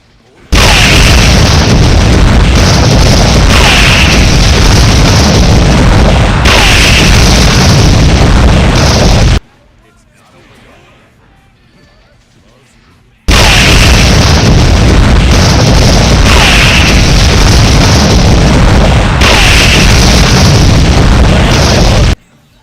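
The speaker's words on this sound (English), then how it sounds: "They bombing again." Heavy bombing explosions in a video game, a continuous roaring barrage of booms and bursts at very high level, breaking off briefly into near silence before resuming just as loud.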